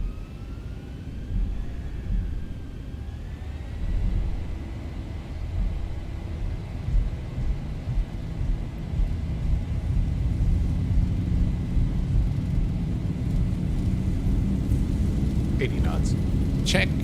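Airliner engines in the X-Plane 12 flight simulator spooling up to takeoff power, a steady deep roar that builds and swells over the clip, with a rising whine and faint clicks near the end.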